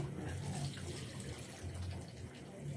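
A cup of water poured into a grinder jar holding fried chopped onions while a chicken korma is made at home, a soft, steady watery rush running faintly throughout.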